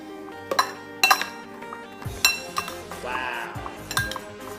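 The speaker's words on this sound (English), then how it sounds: "to finish it off, we're gonna mix this salad together" Salad tossed in a bowl for a Halloween-themed home cooking show: several sharp clinks and clatters of utensils against the bowl, separated by softer rustling and scraping, close and alone.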